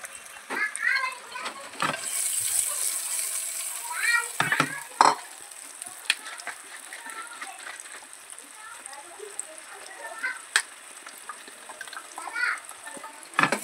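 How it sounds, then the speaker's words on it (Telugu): Boiled eggs fry in oil with spices in a pan, a constant soft sizzle broken by scattered stirring clatters and clinks, with a voice talking now and then over the cooking. "ఈ బాయిల్డ్ ఎగ్స్ని ఫ్రై చేయడం అనేది జరుగుతుంది."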